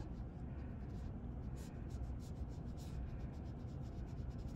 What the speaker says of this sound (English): take your eraser and you'll erase all of these lines that you drew to mark off where things go